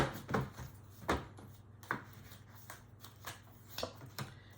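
Quiet, soft riffling and snapping of tarot cards being shuffled, in several separate bursts spaced unevenly, close and faint.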